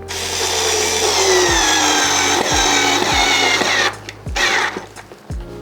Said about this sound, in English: it's just like a battery powered screwdriver, which I guess is a drill